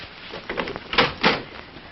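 A front door being opened for an evening visitor at a family home, heard as a few soft handling clunks and a couple of louder bursts of latch and door movement, close and fairly quiet.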